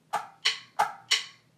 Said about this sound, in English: For the first two beats, it's going to be a stick click on the te.